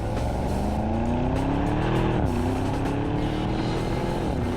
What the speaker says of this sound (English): One more listen to that V8.